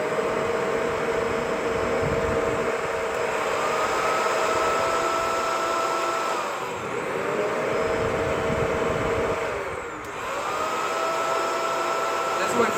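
Shark Rotator powered lift-away vacuum cleaner running on carpet, a loud, steady high-pitched motor whine with airy rushing, pitch dipping briefly twice as the head is pushed and pulled, close and continuous.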